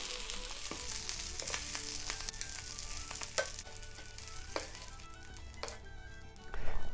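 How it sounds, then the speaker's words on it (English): Steady sizzling and crackling of sausages frying in a pan for Dublin coddle, with occasional sharp pops and spatters throughout. "I finished with all of my frying up"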